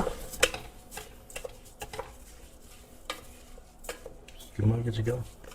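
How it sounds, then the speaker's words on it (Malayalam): Scattered scrapes and taps of a spoon stirring biryani rice with masala in a pan, quiet and intermittent, ending in a louder burst of rustling stir. "ഇനി നന്നായിട്ടൊന്ന് വയറ്റി കൊടുക്കുക"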